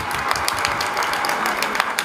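Steady applause from a large crowd at a political gathering in Zanzibar, dense hand clapping continuing evenly throughout with no voices on top.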